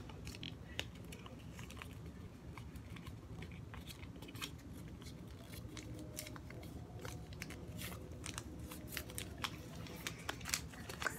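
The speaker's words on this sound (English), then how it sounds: "Now, for this one, you fold it like for a triangle." Paper is being folded into an origami ninja star. Soft crinkles and crisp creasing snaps come in an irregular run, close and fairly quiet, with frequent short rustles throughout.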